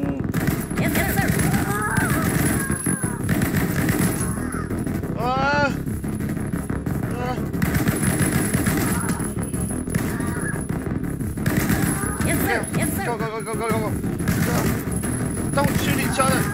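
Gunfire bursts and rattling shots sound in the video game Snake Forces, mixed with raspy crow-like cries and game noise, while people talk over it throughout.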